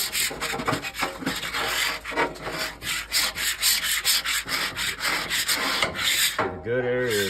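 A freshly sharpened scraper blade grinds over a rusty Blackstone griddle top in fast, rough strokes, loud and close, ending in a brief ringing squeal.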